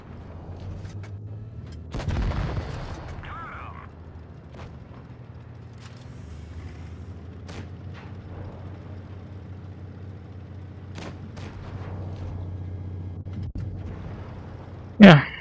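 Tank cannon fire in a tank video game: a few heavy blasts spaced far apart, one near the start and a sharp, loud one at the very end, over a low rumbling engine bed.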